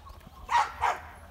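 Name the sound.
Labrador dog barking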